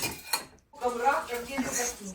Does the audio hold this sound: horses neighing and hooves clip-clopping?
no